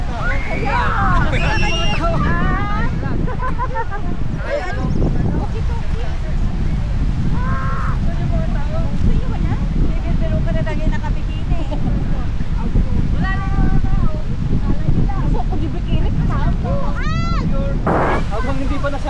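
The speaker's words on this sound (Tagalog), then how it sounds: "Hangin!" Strong wind at a beach campground buffets the microphone in a constant roar, with voices and bird calls under it and a sharp squeal near the end.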